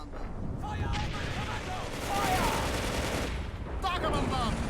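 Dense battlefield gunfire in a Men of War: Assault Squad battle at Stalingrad in 1942: overlapping rifle and machine-gun bursts and heavy booms roll on without a break, loud and continuous, with a voice talking over the din.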